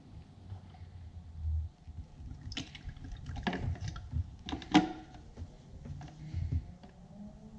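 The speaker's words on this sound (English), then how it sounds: "we're ready to pour the oil in there." AMSOIL motor oil pours from a bottle into the engine of a 2019-2021 Ford Ranger, with soft irregular glugging and splashes and a few sharp clicks and knocks, all fairly quiet and close.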